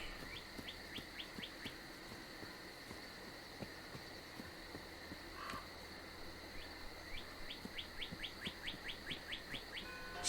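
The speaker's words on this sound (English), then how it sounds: "Excuse me, bird outside." Birds chirp outside in a video game scene, a faint high repeated tweeting in bursts over a low steady ambient hum with soft rhythmic thumps, no talking.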